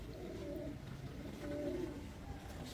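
Pigeons coo continuously in low, soft throaty phrases, prized breeds at a fancier's loft in Multan, close by and steady throughout with no talk over them.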